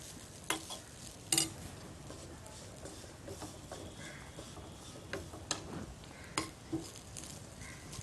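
Grated coconut roasts in ghee in a pan, a faint, low sizzle broken by scattered sharp clicks and taps of a spoon stirring against the pan.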